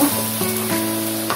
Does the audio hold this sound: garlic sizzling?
yes